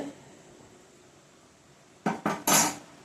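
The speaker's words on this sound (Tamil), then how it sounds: "1 ஸ்பூன் போட்டு கொஞ்சம் இப்போவே கிண்டி விட்ருங்க." Metal spoon clatters against a pot of Tamil-style fish curry: three quick, loud scraping knocks close together at the end after a stretch of quiet kitchen hiss.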